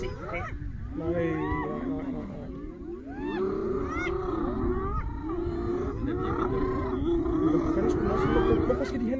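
A lion facing a hyena lets out deep, rumbling roars and growls in bursts, heard under people talking excitedly the whole time.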